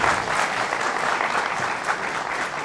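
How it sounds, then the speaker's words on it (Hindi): Studio audience on a Hindi TV news talk show breaks into dense, steady applause that holds at an even loudness for the whole stretch. "आज तालियों का पुल मांग लो एक बार।"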